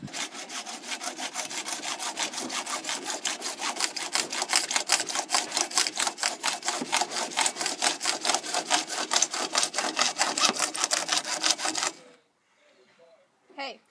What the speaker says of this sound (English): currently sawing the last piece